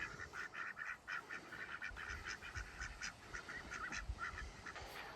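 Ducks on a farm quacking in a loose group, repeated nasal calls overlapping at moderate distance over a soft outdoor background, no talking.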